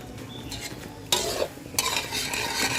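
Thickened tapioca-starch sauce for Chinese kale with oyster sauce is stirred down to the bottom of a pot, with dense scraping and bubbling noise that swells in loud close bursts.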